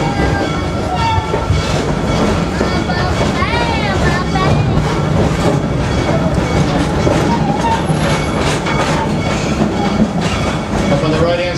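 Serengeti Express train ride at Busch Gardens Tampa, a steady loud rumble of rolling railcars with clacking wheels and a brief horn or squeal, while a narrator speaks over the ride throughout.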